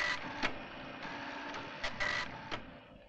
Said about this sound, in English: Or, if preferred, on the adjacent printer.